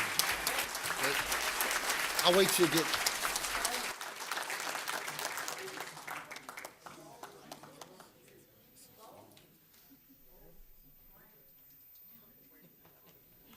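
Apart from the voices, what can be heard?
council meeting audience applause for bowling team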